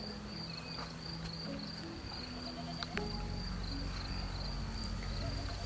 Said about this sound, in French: Au loin, tu perçois le chant discret des cigales.